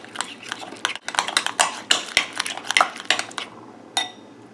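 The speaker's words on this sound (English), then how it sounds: "Now mix all these together and you have your dipping sauce." Dipping sauce being stirred together in a bowl, a close run of quick clinks and scrapes of utensil against dish, busy and uneven, thinning out to a last sharp tap near the end.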